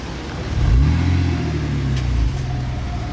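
A Renault Clio V6, the rare rear-mid-engined version, drives past in Monaco with a deep engine note that rises, holds for a couple of seconds, then fades, alone without talk.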